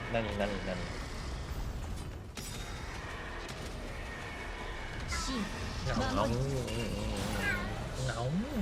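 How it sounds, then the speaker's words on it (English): A house cat meows several times indoors in a bedroom, with drawn-out wavering cries near the mic, under a steady background hum and mixed with a person talking. "my cat decided to come into my room"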